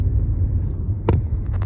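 Car driving along a road, a steady low rumble of engine and tires heard from inside, with a brief sharp click partway through.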